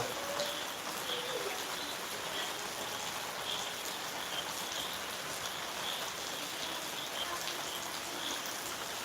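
Steady rain falls throughout, a dense even patter with occasional faint bird chirps in the distance.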